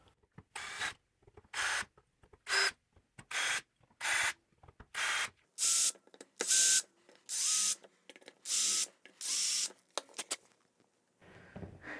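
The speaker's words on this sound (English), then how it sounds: "We're going to use this drill to mark all of the positions that we need to drill" A power drill whirs in about a dozen short, separate bursts with brief quiet pauses between, each one loud and close, marking hole positions on linear rails.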